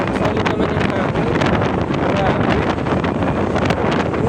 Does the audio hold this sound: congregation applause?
no